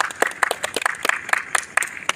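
Applause for Kundan at a Chhattisgarhi short film shoot event, a burst of brisk hand clapping with sharp repeated claps, fairly close and steady throughout.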